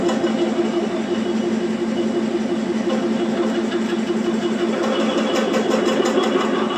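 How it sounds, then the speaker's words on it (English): A lathe turns steadily with a parting tool cutting across the crankshaft of a 2-inch scale Fowler showman's traction engine, giving a continuous close mechanical whir with a faint rhythmic chatter. "Right, I've changed back to the parting tool. Slowly working my way across the crank."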